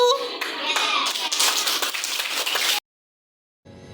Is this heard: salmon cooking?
no